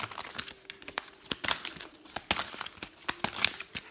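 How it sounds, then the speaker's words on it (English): Tarot cards are handled and pulled from a deck, making close, light rustling and crinkly slides with scattered sharper flicks, steady and quiet throughout with no talking. "So let's pull some more cards."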